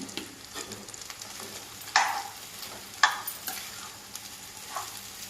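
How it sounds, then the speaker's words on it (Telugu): Potato curry fries in a pan with a soft, steady sizzle while a spoon scrapes and stirs it, giving a few sharp clanks against the pan, close and fairly quiet. "రెండు నిమిషాలు వేగిన తర్వాత కూర రెండు నిమిషాలు వేగిందండి"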